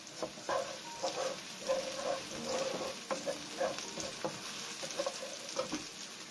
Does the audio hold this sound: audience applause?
no